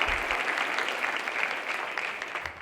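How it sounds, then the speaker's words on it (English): An audience at a city's annual State of the City address applauds in a full, continuous burst of clapping that holds steady and tapers slightly toward the end, with no speech over it. "A round of applause."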